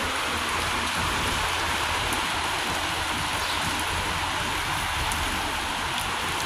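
Heavy rain pours down in Riyadh, Saudi Arabia, as a dense, constant hiss with no pauses, and scattered droplets patter close by throughout.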